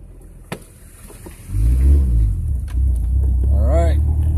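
A group of Toyota 4x4 vehicles sets off four-wheeling. A close engine rumble rises suddenly and holds steady under people talking.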